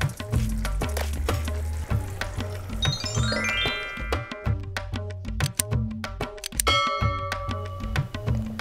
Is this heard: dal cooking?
yes